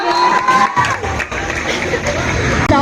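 A crowd at an outdoor new-year award ceremony cheers and shouts loudly and continuously, with children's voices mixed into a dense, steady roar.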